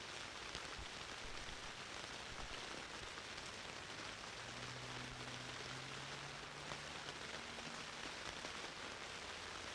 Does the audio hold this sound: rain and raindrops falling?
yes